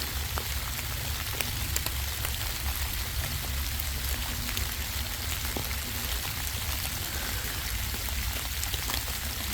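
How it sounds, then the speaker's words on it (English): Steady rain patters on forest leaves, a dense, continuous hiss of drops close by with no break and no voices. "Listen to that rain hitting the leaves."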